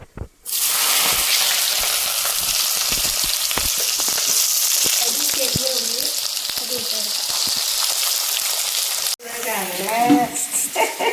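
Onion hits a hot pan and fries with a loud, steady crackling sizzle that runs almost the whole time, briefly cutting out before resuming, while people talk faintly in the background.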